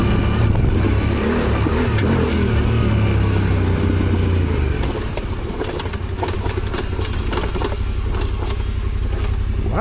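A Yamaha Tenere motorcycle on a wintry Alpine ride, its engine revving hard through a wheelie, a loud, close roar and rumble that surges and then drops into a lighter, rattling drone with wind noise.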